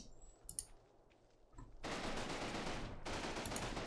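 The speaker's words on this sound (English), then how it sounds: "our machine gun is also like shooting there like crazy" Machine gun fire in Combat Mission Battle for Normandy starts after a quiet moment with faint clicks, then becomes a dense, continuous rattling fusillade. The fire is moderately distant and keeps going to the end.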